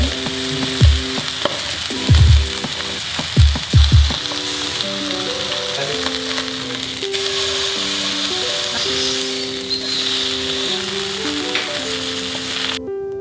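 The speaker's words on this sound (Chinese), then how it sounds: "那今天我要做的版本会先把鸡煎香，然后再放去高汤里面焖熟。" Chicken pieces pan-frying for oyakodon, a loud continuous sizzle close up, broken early by several thumps as the pieces are placed and stirred in the pan, with background music beneath.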